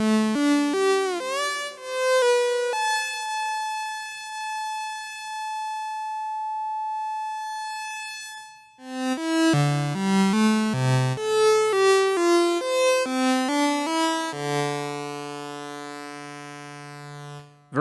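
Tiptop and Buchla 258t analog oscillators set close to two sawtooth waves, played through reverb: a sustained rich harmonic drone with sweeping overtones, then a run of stepped synth notes and a final held low tone, loud and alone.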